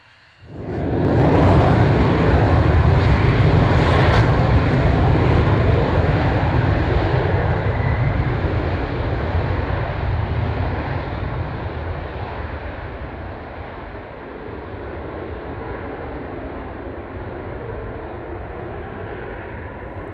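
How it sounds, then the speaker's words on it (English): A Belgian Air Force F-16 fighter jet roars past with a loud, broad engine rush that swells quickly, holds steady, then slowly fades as the aircraft moves off into the distance. "let's see this F-16, the Belgium F-16"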